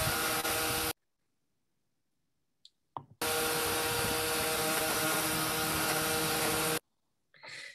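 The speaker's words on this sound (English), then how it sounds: "I created a leaf blower adaptation that goes onto the floor." A leaf blower fitted to a floor-mounted assistive adaptation roars loud and steady in two long bursts, with a near-silent pause between them and brief clicks as it restarts.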